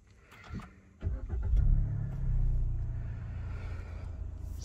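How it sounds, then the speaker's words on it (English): A Suzuki Swift Sport engine cranks briefly and catches, then settles into a steady, smooth low idle rumble heard from inside the cabin, loud and close with little drama. "Starts the engine with the usual panache of a Japanese car, which means no much drama."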